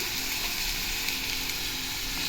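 Onions fry in hot oil for an egg gravy, a dense, even hiss and crackle filling the whole moment, close and constant with no voices.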